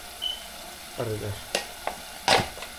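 A spoon stirs salt, red chilli, coriander-cumin powder, cumin and turmeric frying in a pan for palak paneer, giving a few distinct scraping strokes over a low sizzle.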